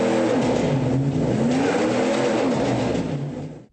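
A truck that has crashed into an office space keeps its engine revving loudly and steadily with wheels still spinning, a rising and falling roar that fades out at the end.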